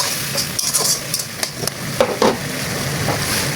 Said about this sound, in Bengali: এবার আমি একটু রসুন বাটা দিয়ে ভালো করে কষিয়ে দিয়ে দেবো তারই সাথে একটু পানি।